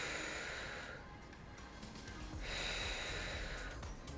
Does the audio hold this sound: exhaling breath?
yes